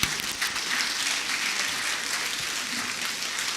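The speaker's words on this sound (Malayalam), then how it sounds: "എല്ലാവരും ഒന്ന് കൈയടിച്ചേ" Applause from a crowd at a Muslim League district committee rally in Kasaragod, a dense steady clapping that fills the whole stretch at an even level, with faint voices mixed underneath.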